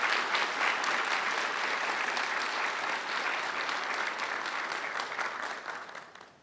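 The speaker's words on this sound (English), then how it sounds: "Let's give another round of applause for the dental class of 2025." An audience at a dental school white coat ceremony for the dental class of 2025 claps in a loud, dense round from a large crowd, steady for several seconds before tapering off at the end.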